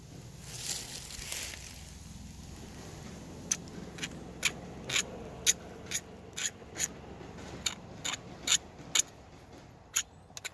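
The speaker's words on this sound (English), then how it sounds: "we chamfer this edge with a knife to take that sharp lip off" A knife chamfers the cut edge of a PVC pipe in a series of about a dozen sharp, scraping strokes at a steady rhythm, close and fairly quiet.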